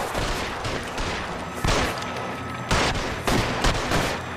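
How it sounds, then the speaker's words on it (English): Rapid bursts of gunfire from a shootout in the video game L.A. Noire, dense overlapping shots and sharp cracks in quick succession, loud and close with no voices. "there's almost going to be a shooting going on."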